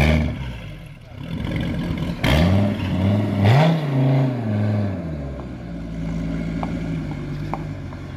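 A Dodge Viper at the Nürburgring on a lap record attempt, its engine droning and rising in pitch from a distance amid crowd ambience, with people talking nearby.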